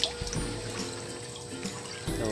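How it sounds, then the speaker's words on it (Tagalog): Aquarium water from an old fish tank poured into a new swordtail tank, a soft continuous trickle and splash of water at low level throughout. "maglagay ng kahit na kaunting tubig galing dun sa pinanggalingan para hindi sila mabibigla sa water condition ng bagong tubig"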